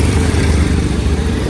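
An adventure motorcycle on a night road rumbles loudly and close, a steady engine drone with no clear rise or fade, heard without talk.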